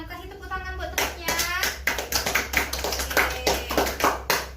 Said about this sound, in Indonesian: kasih tepuk tangan buat temannya